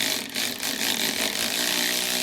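A power tool with a 9/16 socket drives a nut tight on an RV stabilizer arm, a loud steady whirring buzz with a slight dip near the start.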